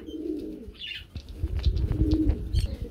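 A Lakka pigeon at a pigeon farm gives low, throaty coos in a rolling rhythm, close by, with a few faint chirps and rustles from other birds around it.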